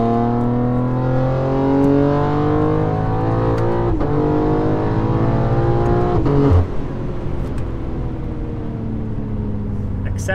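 A tuned BMW G8x M3/M4 with a Valvetronic Designs equal-length exhaust and downpipes with valves open, revving loudly up and down nearby in a strong, harmonic-rich drone, pitch swinging through repeated rises before a sudden drop and a lower settling tone.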